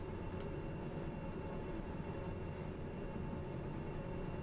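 Freight train hauling timber in Derail Valley, a steady low rumble and rolling drone that holds constant throughout, with a faint brief squeal near the start and no voices.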